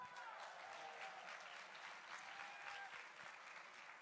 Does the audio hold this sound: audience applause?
yes